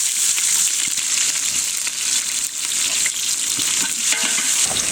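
Chopped onions and curry leaves sautéing in hot oil, a loud continuous sizzle and crackle with stirring throughout, close up and without talk.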